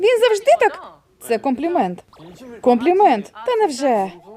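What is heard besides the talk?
No distinct noise like a dog, phone or traffic.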